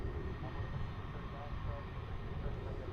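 An American Airlines jet taxis at DFW airport, its engines a steady, broad rumble throughout, with voices faintly present beneath it.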